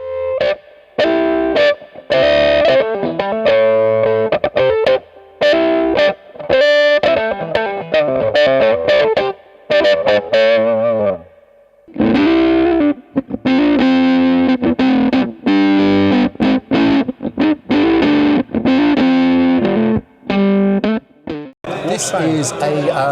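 Electric guitar played through a Fredric Effects Warp Sound filter-distortion pedal, loud fuzzy notes and chords with sweeping envelope-filter tone in choppy bursts separated by short pauses.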